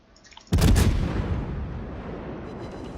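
Cruiser main guns firing in the naval video game World of Warships, a single loud booming salvo that hits after a short quiet lead-in and rolls off into a long decaying rumble.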